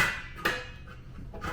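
Pots and lids from a Kirkland ten-piece cookware set are handled and clink together, with one clear metallic clang followed by softer knocks and scrapes, close by and with no talking.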